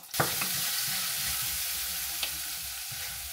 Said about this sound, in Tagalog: Isusutay ko muna tong sibuyas saglit.